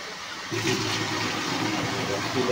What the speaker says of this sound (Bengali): এখানে জল ফিলিং হচ্ছে,